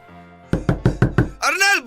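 A fist pounds a house door five times in a quick, heavy, evenly spaced run, close and loud. Someone shouts right after the knocks and faint music plays underneath.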